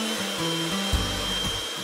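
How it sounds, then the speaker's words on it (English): Egg whites whisked for meringue with an electric mixer, a steady close whirring drone that shifts slightly in pitch as the beaters move through the bowl. "Separate 4 egg whites and whisk."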